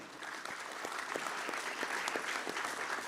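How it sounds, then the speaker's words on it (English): A conference audience claps steadily for a row of speakers at a global capability centre conclave, a fairly faint, even wash of applause with a few sharper claps standing out, lasting the full stretch. "let's have a very big round of applause for all of them"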